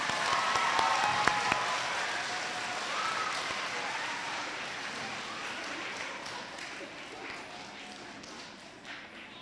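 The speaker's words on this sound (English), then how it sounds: "Let's give her one more round of applause." Audience applause for a student receiving a certificate at a school event, a fairly distant crowd clapping that starts strongest and slowly fades over several seconds, with a few nearby taps.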